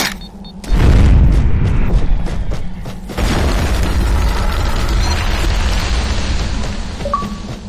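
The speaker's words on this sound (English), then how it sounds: "They're spike grenades. They create a column of molten rock and can be used to lift objects." A spike grenade in the game Fracture erupts into a rising column of molten rock, a deep loud boom followed by a long rumbling, grinding roar that holds steady before easing off.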